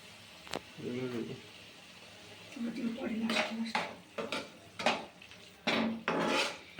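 Chopped tomato being stirred into fish curry in a pan, with a spoon scraping and clinking against the metal in short repeated strokes, close and fairly loud, and a voice speaking briefly.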